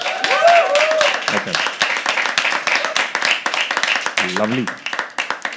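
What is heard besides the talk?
audience clapping and cheering at a poetry open mic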